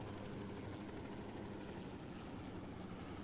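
Helicopter rotor and engine drone in a co-op shooter video game, a faint, steady whirring hum held throughout with no voices.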